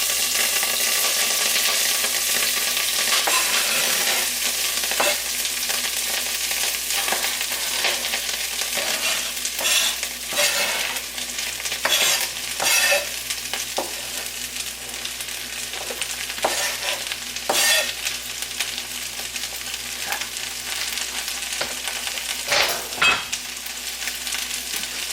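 Ingredients fry in olive oil in a pan while being stirred, a loud continuous sizzle with intermittent scraping and clacking of the spoon against the pan, close up and without voices.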